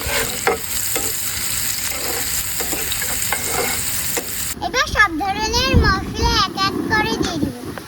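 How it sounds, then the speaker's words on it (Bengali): Onion and chili hit hot oil left over from frying fish and start sizzling loudly, with stirring scrapes close up, after a quieter stretch of room noise and someone talking over the cooking. "মাছ ভাজা তেলে পেঁয়াজ মরিচটা সুন্দর মতন দিয়ে দিন"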